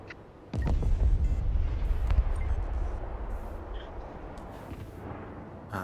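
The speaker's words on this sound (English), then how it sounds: "And there goes the airstrike." Airstrike explosions in the Broken Arrow video game: a sudden heavy rumbling blast hits at once and then rolls on as a sustained low roar with scattered secondary booms, loud and close, slowly tapering toward the end.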